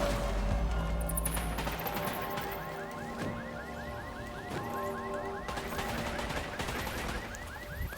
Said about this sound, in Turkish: Silah sesi duyduk.